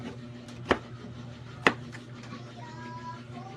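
Knife chopping spice ingredients like ginger and onion on a board in a home kitchen: two sharp, separate chops about a second apart, close and clear over a low background hum.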